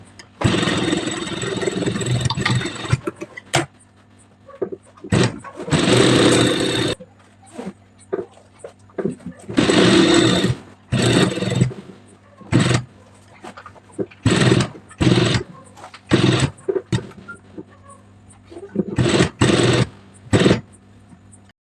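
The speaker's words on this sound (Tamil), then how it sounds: "இப்போ இந்த ஸ்லீவோட எண்டையும் அடிச்சுக்கலாம்." A sewing machine stitches the end of a blouse sleeve in a tailoring shop, loud close bursts of rapid needle whirring that start and stop repeatedly, some long runs and many short ones, separated by quiet pauses.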